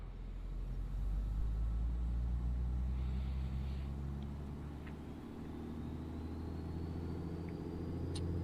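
Black Square Beech Bonanza piston engine at run-up power in Microsoft Flight Simulator 2024, a loud steady low drone with a deep rumble that holds even throughout, with no voices.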